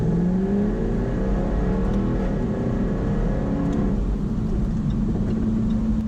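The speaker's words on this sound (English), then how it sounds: "absolutely a charming engine, the sound, the exhaust sound" Jaguar F-Type R exhaust note, a loud close engine drone whose pitch climbs and sweeps as it revs, steady and continuous without any talking.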